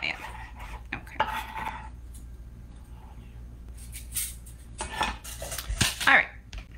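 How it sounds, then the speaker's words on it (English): Plums are chopped with a knife for individual plum crisps, with irregular knife taps and clatters against a board, some louder clinks of utensils near the end, and no clear talking. "So that's how we chop up the plums, nice and easy."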